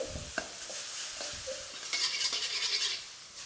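Pork is stir-fried in a wok on high heat, with a steady sizzle and scraping, clinking stirs of a utensil against the pan, close by.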